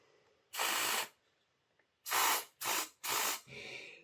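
Cleaner sprayed out of the axle shafts of a Hornby R061 Black 5 model locomotive under repair: four close, sharp hissing aerosol bursts, one long burst followed by three shorter ones in quick succession, with a fainter hiss trailing at the end.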